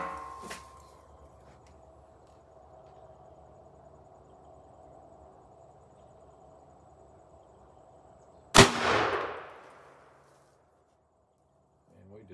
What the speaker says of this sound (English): First up, we'll be shooting it out of the Rossi 20-inch